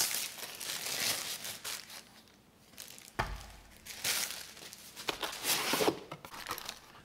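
Packaging of a Carpuride 10-inch CarPlay/Android car screen crinkles and tears as it is opened, with irregular rustling bursts and a brief louder crunch partway through, close and fairly soft, no talking.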